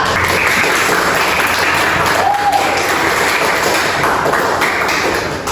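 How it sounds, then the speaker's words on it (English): A class applauds a student with steady, dense clapping from many hands, loud and continuous throughout, fading slightly at the end. "Okay, give applause to Mila"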